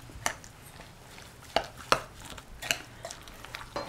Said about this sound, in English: And now I can start mixing it.